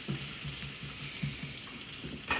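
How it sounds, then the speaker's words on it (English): Soft, steady sizzling of pepperoni frying in a pan, faint and close, with occasional low knocks and no talking. "I hear them sizzling and I don't want them to burn"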